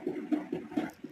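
Soaked tamarind water poured into a pot of radish sambar, a few short splashy gurgles in quick succession, close and fairly loud with no talking.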